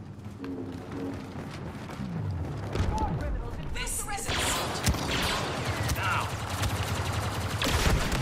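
Blaster gunfire in Star Wars Battlefront 2 on Bespin's Administrator's Palace, dense bursts of rapid shots and explosions layered together, loud and continuous, with a player's voice talking over parts of it.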